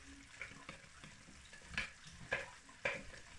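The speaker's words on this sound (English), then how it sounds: "just stir it until it's melt" Shepherd pie mix stirred in a pan into cottage pie sauce and meat until it melts; quiet scraping strokes with a soft sizzle, several short louder swipes in uneven rhythm.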